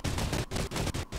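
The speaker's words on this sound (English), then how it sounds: "I can't even see where we're being shot from." Rapid bursts of gunfire aimed at the players' plane in the Fortnite video game, steady and dense, broken by a few brief gaps, loud and close with no voices over it.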